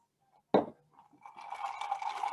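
A glass clinks sharply once, then seltzer pours steadily over Sauvignon Blanc wine for a spritzer, with a fizzy, bubbling rush that continues to the end.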